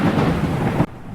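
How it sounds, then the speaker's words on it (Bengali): Loud rolling thunder rumbles outside during a rainy night, a dense, heavy roar that cuts off sharply partway through and leaves a quieter wash of rain. "বাইরে প্রবল মেঘ ডাকছে।"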